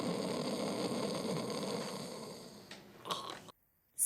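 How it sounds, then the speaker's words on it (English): A person snoring, heard as a steady, rasping low rumble that continues alone for under three seconds before fading, followed by a couple of brief noises. "Snore."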